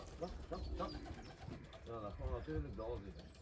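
Racing pigeons coo in a loft, several soft rolling calls repeating close by in overlapping bursts, with people talking over them.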